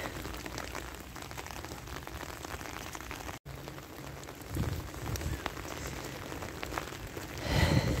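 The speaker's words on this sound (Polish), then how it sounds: "Cały czas pada." Steady rain falls outdoors in Germany, a continuous close patter on surfaces with a brief dropout partway and a louder splashing stretch near the end, no speech.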